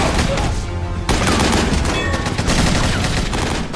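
Dense, loud gunfire crackles nonstop, overlapping rapid bursts and single shots from several weapons, like an intense firefight up close.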